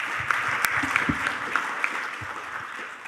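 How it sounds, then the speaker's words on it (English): Audience applause for a moderator and panelists at the close of a session on aviation recovery, a steady wash of clapping held at a moderate level throughout, with a few sharper claps standing out. "We need another big round of applause to our moderator and panelists for the great presentation and debate."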